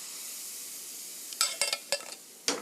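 A ladle of batter for beef rolls meets a thinly oiled hot pan after a quiet stretch, bringing several short, close bursts of sizzle and crackle that come and go.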